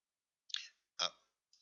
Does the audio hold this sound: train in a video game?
no